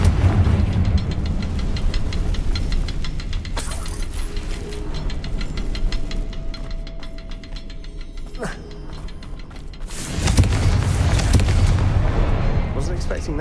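A Confringo fire spell going off in Hogwarts Legacy, a sharp booming blast after a stretch of rumbling game noise, with a voice speaking over the action.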